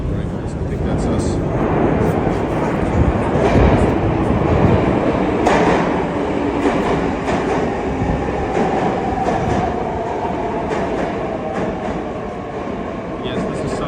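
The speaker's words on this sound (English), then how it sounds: "Yes, this is subway or metro." Riding a subway train on the St. Petersburg metro line toward Technological Institute station: a loud, continuous rumble and rattling clatter of the carriage, with murmuring voices underneath.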